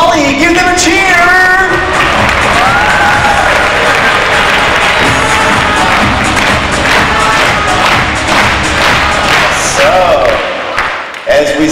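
At a school jump rope fitness show, the audience claps and cheers for the stage crew in a loud, sustained burst. Shouts and whoops mix with dense clapping, and a voice calls out over it before the noise tapers off at the end.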